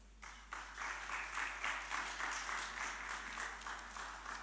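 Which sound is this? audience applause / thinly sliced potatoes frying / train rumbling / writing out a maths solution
audience applause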